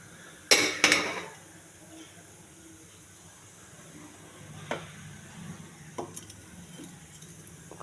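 A kitchen stove being lit and a flat griddle pan set on it, with a burst of sharp metallic clinks and clatter early on, then a quiet hiss and a few scattered light knocks.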